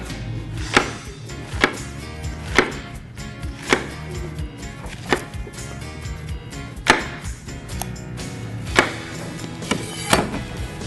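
Knife chopping fresh yellow squash on a cutting board, a steady run of sharp, close thwacks spaced about a second apart, with no talking.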